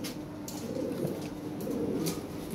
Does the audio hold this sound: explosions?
no